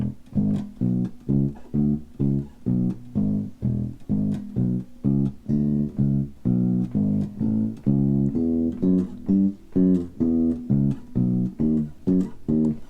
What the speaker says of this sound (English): In blues music, the bass might sound like this.